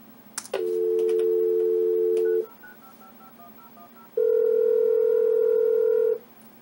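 A Hayes Accura 144 modem's built-in loudspeaker plays a loud steady dial tone, then rapid touch-tone dialing beeps, and after a pause a second sustained tone, all clear and close with no speech over it.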